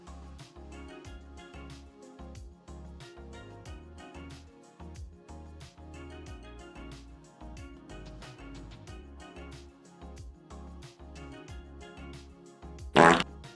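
Near the end, one loud, sharp fart sound bursts out over quiet, rhythmic background music that runs throughout.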